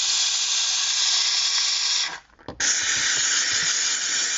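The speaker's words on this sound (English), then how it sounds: "So with the steam, get all that nastiness in the vents." Steam cleaner hissing into the dashboard vents of a 2008 Honda CR-V, a loud continuous bright hiss that cuts out briefly mid-way with a short sputter before resuming.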